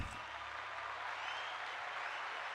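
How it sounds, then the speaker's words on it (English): Applause and hand clapping from a small group, a steady dense patter held evenly throughout at moderate level, with no voices over it. "a long-awaited hand clap."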